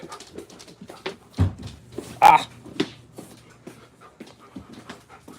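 Dogs pant close by in quick breathy bursts, with scattered soft whimpers and a sharper thump midway.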